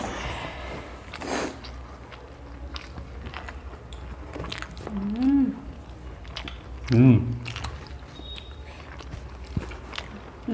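Someone eating pumpkin greens cooked with pea dal at a family meal, with soft, wet chewing and a few crisp bites close up, over a low room hum and faint background talk.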